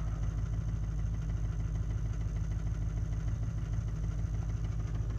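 An LLY Duramax diesel engine idles after a cold start at minus 16 degrees, with a steady, deep rumbling drone that holds unchanged and close throughout.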